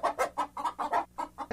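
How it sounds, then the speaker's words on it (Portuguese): A cartoon chicken clucks in a quick rhythmic series of about eight short, bright clucks evenly spaced, close and fairly loud with no talking over them. "pra mim isso aqui é uma galinha"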